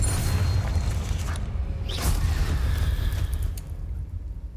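A Confringo fire spell explodes in Hogwarts Legacy, a loud sustained low boom and rumble with whooshing bursts that slowly fades over several seconds.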